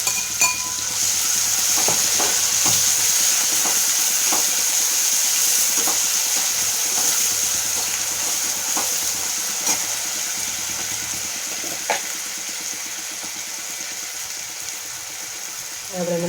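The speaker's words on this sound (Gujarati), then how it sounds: "હવે એમાં નાખી દઈએ આપણે ટમેટા, ડુંગળી, લસણ, આદુ મરચાંની પેસ્ટ" A paste of tomato, onion, garlic and ginger-chili sizzles steadily in a hot pan for a Gujarati chavana curry, with a spoon scraping and tapping now and then as it is stirred.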